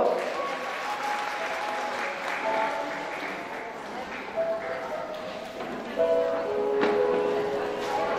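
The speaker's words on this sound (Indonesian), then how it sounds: "Tepuk tangan dong" Audience at a church parenting seminar applauding to welcome a pastor speaker, steady moderate clapping with brief voices and tonal sounds rising over it.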